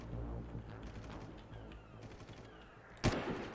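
Gunfire in an old video game: dense, steady crackle of rapid shots throughout, with one loud, sharp blast near the end standing out above the rest.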